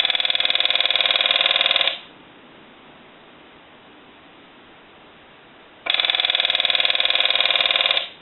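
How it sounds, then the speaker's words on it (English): TA-954 military field telephone ringer set to high, ringing in two loud buzzing bursts of about two seconds each with a quiet gap between them. "And then that would be ring cycle full on high."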